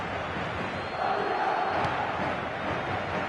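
Simulated stadium crowd in an eFootball match, a steady loud roar of chanting fans that swells slightly midway and carries on without a break.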